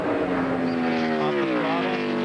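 A NASCAR stock car engine in 2002 Pennsylvania 500 qualifying, heard as a steady, loud, droning roar whose pitch slides down as the driver lifts off the throttle approaching turn one.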